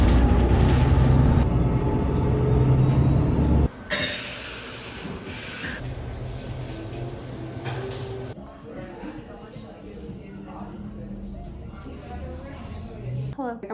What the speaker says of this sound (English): Full bus to myself.